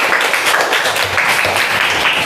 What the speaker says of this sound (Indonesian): tepuk tangan dulu untuk Anggun